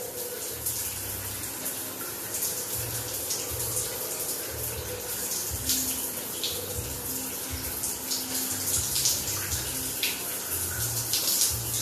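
Water runs from a bathroom tap during a bath, a steady, close gushing and splashing that continues evenly for about twelve seconds, with small splashes rising above it.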